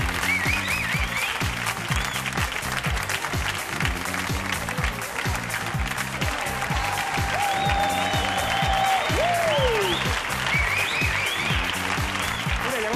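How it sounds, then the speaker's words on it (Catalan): Studio audience applauding TV show guests as they come on, a steady, dense burst of clapping lasting throughout, with faint whistles and cheers rising over it. "un fort aplaudiment, si us plau, per la Mireia Canalda i el Bernat Soler"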